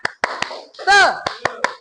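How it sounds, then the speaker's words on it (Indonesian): In a classroom, a tepuk semangat clapping chant sounds as crisp, separate hand claps in a quick pattern, with a single voice chanting once in the middle. "Ice breakingnya tepuk semangat."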